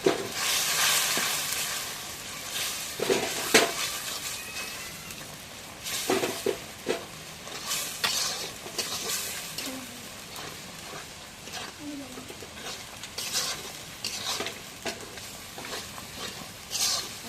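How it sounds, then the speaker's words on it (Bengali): Ground spices including chili powder fry in a pot on a rural clay stove while being stirred, an uneven close sizzle broken by repeated scraping strokes and knocks. "এখন সব মশলা দেওয়া হয়ে গেছে, নাড়া দিয়ে দিই।"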